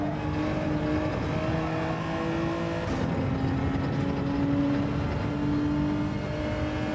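A race car engine drones steadily in a racing video game, its pitch shifting as the car trail-brakes into corners on worn-out tyres. The sound is continuous and fairly loud, with no voices.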